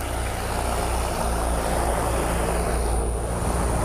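An engine running while fans blast sand at it to simulate a sandstorm, producing a loud, steady roar of broadband wind and mechanical drone with a high whine, continuous and close.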